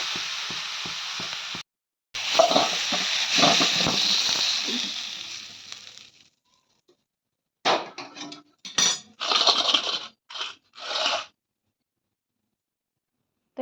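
Pieces of mango for pickle fry in a pan with sizzling and scraping stirs for several seconds, followed after a pause by short, separate bursts of spatula scrapes against the pan.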